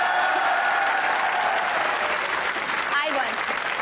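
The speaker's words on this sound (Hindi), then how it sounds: "जिनको लगता है मैंने अच्छा बनाया तालियां बजाएं" Studio audience applause on a Pakistani comedy talk show, a sustained even wash of clapping from the crowd, with a voice speaking over it near the end.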